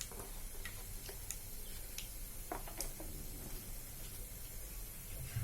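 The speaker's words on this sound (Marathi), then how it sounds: "जिरं आणि मोहरी चांगली तडतडली" Cumin and mustard seeds crackle in hot oil for a Marathi tempering, with scattered sharp pops and ticks over a steady hiss, fairly close and alone.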